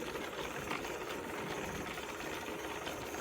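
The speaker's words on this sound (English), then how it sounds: "this is me moving along really slowly on the motor" A folding e-bike's hub motor running at low speed, a steady close whirring drone with a buzzy mechanical rattle that holds an even level throughout, with no talking.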